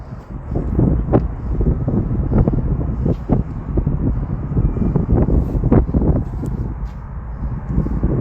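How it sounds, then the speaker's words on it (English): Strong, gusty wind buffets the microphone outdoors during a stroll past a protest, a continuous low rumble with repeated sharp blasts that stay loud throughout, and no voices heard. "The wind is absolutely mental."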